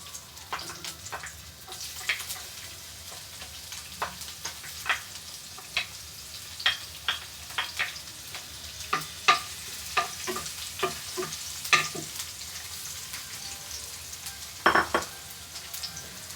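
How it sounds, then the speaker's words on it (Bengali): Chilies and garlic frying in a pan for spicy chili pasta, a soft steady sizzle broken by scattered stirring scrapes and small pops, fairly quiet and close with no talking. "রসুনটা একটু ভেজে নিব।"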